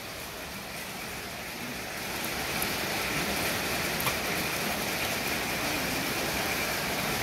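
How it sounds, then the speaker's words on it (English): Dense, steady rain from a lightning storm in Adelaide roars over the whole clip, growing heavier after a couple of seconds with big, heavy drops, a faint engine hum beneath. "It's raining now."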